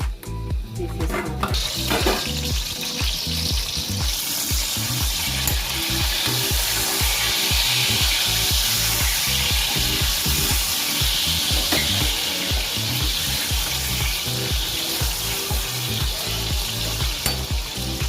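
Stuffed brinjal curry fries in a pan with a continuous close sizzle, over a busy rhythmic pattern of stirring and spoon scrapes that runs throughout; no one speaks.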